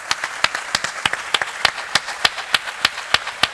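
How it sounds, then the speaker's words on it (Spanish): Audience clapping after a neurosurgery lecture, a sparse run of distinct, sharp claps at a steady pace, fairly close and dry, with no voices over it. "un aplauso para el doctor Arraez."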